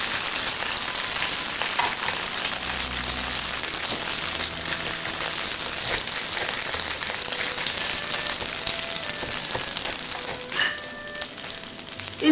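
Pot sticker dumplings sizzle steadily as they pan-fry in a wok and are moved around, a dense close frying hiss with occasional scraping and a brief metallic ring near the end, and no talking.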